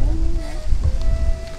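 Rain pattering steadily around a rider on a motorbike crossing rural rice fields in Vietnam, with low engine and road rumble underneath and a faint hum running through.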